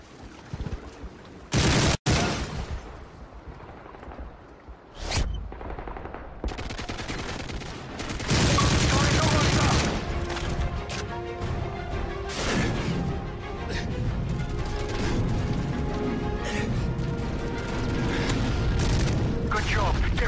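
Grenade explosion and gunfire in the video game Black Ops 2: a sharp burst near the start, then a loud boom followed by sustained, dense rattling gunfire and mechanical clatter that continue to the end.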